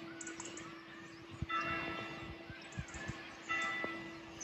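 A bell rings out during an outdoor morning yoga session in nature, a steady sustained tone struck again partway through and left to resonate, with no talking.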